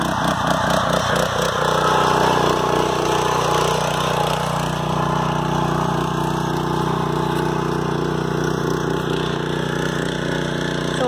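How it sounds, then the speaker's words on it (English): A Tilmor Power OX cultivating tractor fitted with Thiessen tillage tools runs steadily, its engine holding a continuous, even drone with a slight pitch shift early on and no voices. "we are so excited about this tractor"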